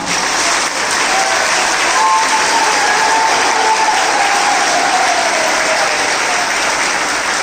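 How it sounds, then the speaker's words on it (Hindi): Dense, steady applause from a large audience at a Jain religious sermon in Chhatrapati Nagar, Indore, loud and continuous with no pauses, a few voices faintly beneath. "30 सेकंड तक लगातार ताली बजे तो इसको पता चलेगा।"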